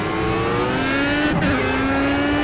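A Formula A single-seater race car in Project CARS, racing at Road America, drones steadily with a high, tonal engine note that rises and falls through a gear shift, loud and continuous with no voices.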